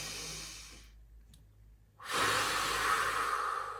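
Steady breathing from a person during a barbell first rib mobilization, a slow sigh-like exhale fading into near silence before a louder, sustained breath swells up close.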